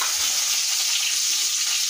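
Fish head dropped into hot oil with fried onions and whole five-spice seeds, giving a loud, steady frying sizzle and crackle close up, with no voices.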